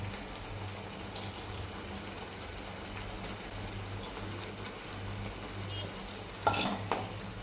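Palak paneer curry with paneer pieces being stirred in a pan, a soft continuous scrape and low sizzle running steadily, with a brief louder clatter near the end.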